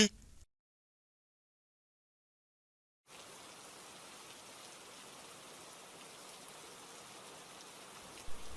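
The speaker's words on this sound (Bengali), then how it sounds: "মা দেখো, বৃষ্টি পড়ছে।" Soft, even patter of rain falling steadily after a brief silence, a dense wash of drops with no voices.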